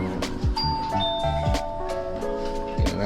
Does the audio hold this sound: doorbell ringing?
yes